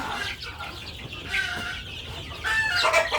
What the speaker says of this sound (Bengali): আমার নতুন মুরগির বাচ্চা ফুটেছে